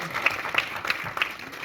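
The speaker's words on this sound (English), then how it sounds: "A big clap for Ahmed." Applause for a named participant at an international exchange program welcome in Romania, a short burst of clapping from a small audience lasting under two seconds, fairly soft and steady.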